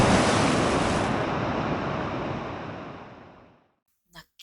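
Ocean surf rushes in a loud, broad wash of water that gradually fades away into silence, followed by a couple of faint soft knocks.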